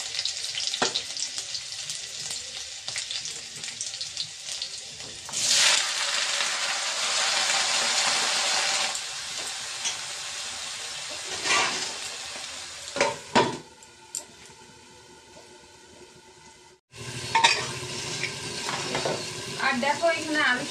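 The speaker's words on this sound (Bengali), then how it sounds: "তেল গরম হয়ে গেছে, এখন লঙ্কা দিচ্ছি, লঙ্কা আর পাই যে পাঁচফোড়ন দিব," Green chillies and panch phoron hit hot oil with a sudden loud sizzling burst that crackles on for several seconds, then eases into quieter frying with intermittent pops and a brief dropout before the sizzle returns.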